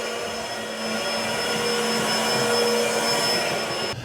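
A Bissell SpinWave + Vac cordless mop vacuums dry debris off a hard floor, its motor holding a loud, steady whine with a faint high tone, close up and uninterrupted until it cuts off at the very end.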